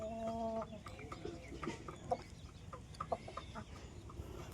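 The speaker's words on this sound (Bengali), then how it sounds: "10টা মুরগি, 2টো মোরগ" Rhode Island Red hens and roosters cluck near at hand in a small backyard flock, a busy overlapping stream of short clucks and calls with a louder squawk or two.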